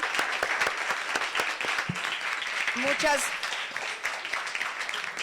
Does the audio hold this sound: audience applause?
yes